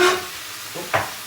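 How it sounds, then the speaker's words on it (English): A Sichuan stir fry with broccoli and cashews sizzles in the pan, a short hiss with a couple of brief bursts of stirring, close and fairly loud, with no talking. "As that's frying"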